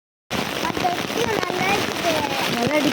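Rain pattering on an umbrella during a walk on a rainy day, a steady dense patter close by throughout, with a few brief bird-like chirps and other faint sounds mixed in.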